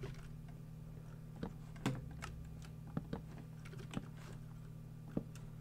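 Quiet keyboard typing at a computer during a Minecraft session: a handful of scattered key clicks, some sharper than others, sitting over a low steady electrical hum.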